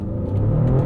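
Maserati Grecale Trofeo with its twin-turbo V6, the engine droning low and steady from inside the cabin, then swelling slightly louder through a brief rev with no talk over it.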